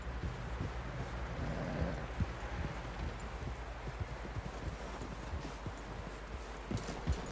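Horse walking in Red Dead Redemption 2, steady clip-clop hoofbeats over a constant low wind-like rumble, moderately close and even in rhythm throughout.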